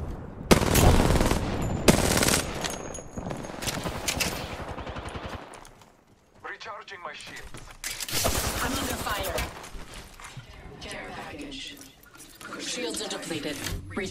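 Bursts of automatic weapon fire in an Apex Legends match, loud rapid volleys broken by short pauses, with players talking over the shooting.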